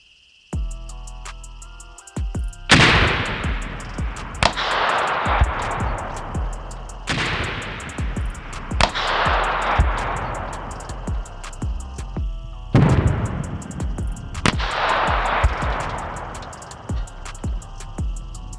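Several loud, sharp shots from a Hoffman precision rifle ring out outdoors in separate bursts, each crack followed by a long rolling echo, with quiet gaps between.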